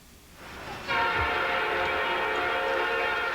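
A train horn sounds along a railroad line running through a small Southern town, Salisbury, North Carolina, blaring in a long, loud, steady tone that starts abruptly and holds, with a low rumble of the train beneath it.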